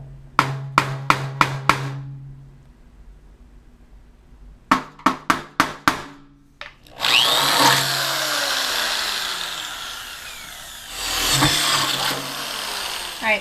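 Drilling holes into a Power Mac G5 computer case: a run of sharp, evenly spaced taps, then a sustained, loud grinding drill whir that dips briefly and surges again, close by.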